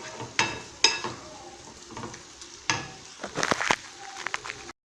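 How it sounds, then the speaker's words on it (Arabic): Minced meat filling for stuffed eggplant stirred in a hot pan: steady sizzling frying with repeated sharp scrapes and knocks of a utensil against the pan, close and fairly loud, then an abrupt stop. "نقلوه مليح حوالي 5 دقائق ونطفي عليه"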